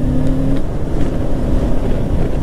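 A Kawasaki Ninja 650 motorcycle cruises at an easy pace, its engine a steady loud drone mixed with heavy wind rush from riding, with no speech over it.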